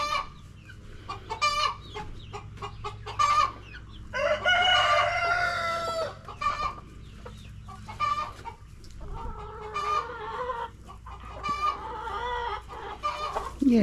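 Chickens cluck and squawk repeatedly in bursts, close by, with a rooster-like call mixed in; no one speaks.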